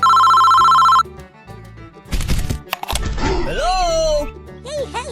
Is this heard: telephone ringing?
yes